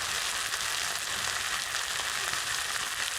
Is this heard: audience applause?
no